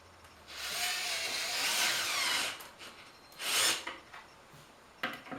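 Small screws being power-driven into a wooden drawer while fitting its front and slide, heard as a long whirring drive followed by a shorter second burst and a brief final buzz, close and fairly loud, with no talk.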